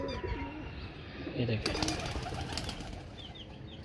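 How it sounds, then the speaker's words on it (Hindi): Pigeons in a rooftop flock cooing and flapping their wings, with bursts of wingbeats and soft calls over outdoor background noise, while someone speaks briefly nearby. "दोस्तों यार ये हमारे कबूतर"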